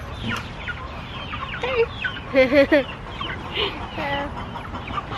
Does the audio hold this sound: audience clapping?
no